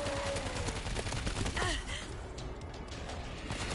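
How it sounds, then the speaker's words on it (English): An automatic turret fires in World War Z amid a dense, noisy battle wash, its rapid rattling shots blurred into constant chaotic game sound at moderate volume. "Auto turret running"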